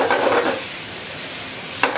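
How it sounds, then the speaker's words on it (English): Vegetables sautéing fast in a very hot pan give a steady, close, broadband sizzle that runs the whole time, with a brief sharper crackle near the end. "You can really hear that pan sizzling"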